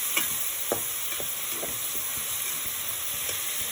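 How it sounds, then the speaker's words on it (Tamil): Eggplant and small onions sauté in a hot pan for a Tamil brinjal kotsu, a steady loud sizzle and hiss with a few sharp scrapes from stirring, no talk. "வதங்கட்டும்."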